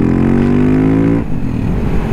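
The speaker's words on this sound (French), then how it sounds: "Allez on va voir ce que ça donne un peu en ouverture de gaz." A 2012 KTM 690 SMCR motorcycle engine revs hard and close to around 4000 rpm, its tone climbing steadily before the throttle snaps shut and it drops back to a rough, lumpy idle.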